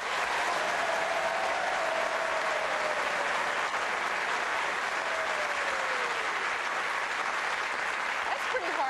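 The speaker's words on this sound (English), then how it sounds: "clap your hands right now" A large television studio audience claps heartily on request during a talk show taping, a dense, steady wash of applause lasting throughout.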